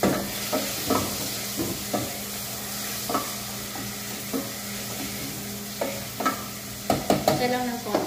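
Onion and tomato stir-frying in a pan, a continuous soft sizzle broken by repeated spatula scrapes and knocks, growing busier near the end, close up with no talk.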